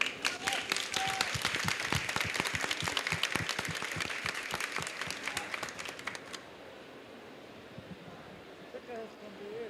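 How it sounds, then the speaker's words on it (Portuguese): Audience applause for indigenous representatives at a talk, a loud burst of many hands clapping with sharp individual claps standing out, lasting about six seconds before stopping abruptly into quiet room tone with faint talk. "eu gostaria de pedir também uma salva de palmas para representantes indígenas como o Krenak e a Sônia Guajajara"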